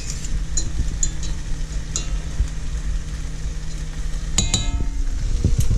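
Rice being stirred in a pan on a stove over a low sizzle, with light scrapes and metallic clinks from a utensil, louder clatter near the end and no speech.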